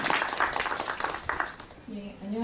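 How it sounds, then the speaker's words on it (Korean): An audience at a guest lecture on international justice claps in a dense burst that fades after about two seconds, and a speaker's voice then begins over the last of it. "큰 박수 부탁드리겠습니다"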